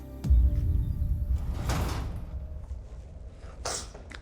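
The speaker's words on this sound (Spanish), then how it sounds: "¿Por qué azotas la puerta?" A door slams shut with a sharp, fairly close thud, followed by quieter rustling and a second brief knock in an indoor room.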